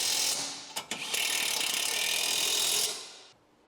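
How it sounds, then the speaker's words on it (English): A ratchet on a 17mm socket tightens the lower control arm spindle bolt on a Honda Civic: two quick clicks, then a steady, dense run of ratcheting about two seconds long, close and loud with no voices. "Use a 17mm socket to secure the bolt connecting the lower control arm spindle into the arm."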